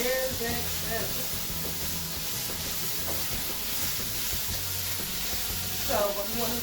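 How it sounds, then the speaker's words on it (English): Steady, loud sizzling of beef frying in a pan for Beijing beef, a continuous crackling hiss with a few brief tonal clinks and some background hum. "Here's that sizzle"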